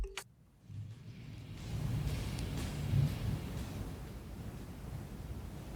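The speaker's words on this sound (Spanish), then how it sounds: "se escuchan los truenos, se escucha el crepitar de la lluvia arriba del techo" Thunder rumbles low and distant during a rainstorm, with rain crackling on the roof overhead, a steady muffled wash that swells around the middle with a deeper roll, no voices.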